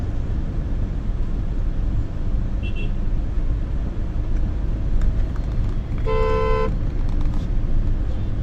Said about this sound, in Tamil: ஹார்ன் அடிக்கும்.